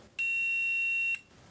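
A multimeter in min/max recording mode gives a single steady, high-pitched electronic beep of about one second when the voltage changes, clear and alone in a quiet room.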